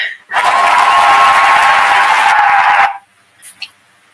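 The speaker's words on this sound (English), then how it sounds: "I think the applause is better than my hands" A burst of applause at a cyber security talk starts suddenly, fills the room loudly for about two and a half seconds, then stops abruptly, leaving near silence with a couple of small knocks.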